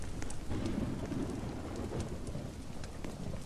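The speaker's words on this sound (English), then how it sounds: "I think it's, it's stormy outside" Rain and thunder from a stormy night in a Roblox camping game, a dense, steady downpour with low rumbling thunder rolling underneath, fairly loud and continuous with no talking.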